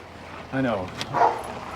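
A police dog called Kim gives an agitated bark and a yelp at close range, amid tense background noise in an indoor setting.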